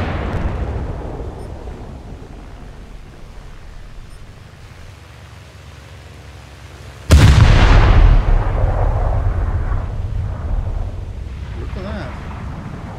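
Heavy naval guns on a warship in a naval combat video game fire in one sudden loud blast partway through, followed by a long rumbling roll that fades slowly over steady engine and water noise.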